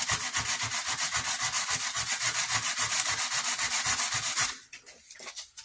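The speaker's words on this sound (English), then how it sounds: "Get all that scratched up real good." Abrasive is scrubbed back and forth in fast, even strokes across a chrome front grill on a Lincoln Town Car to rough it up before spray painting. The scraping is close and rhythmic, then stops near the end.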